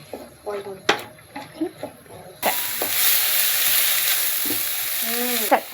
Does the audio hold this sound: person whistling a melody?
no